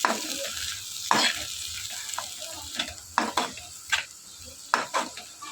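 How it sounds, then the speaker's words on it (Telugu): Chopped coriander sizzles in a hot pan while being stirred for egg noodles, a steady frying hiss broken by repeated sharp scrapes and clinks of the spatula against the pan. "కొత్తిమీర వేసుకుని మళ్ళీ ఫ్రై చేసుకోవాలి కొంచెంసేపు"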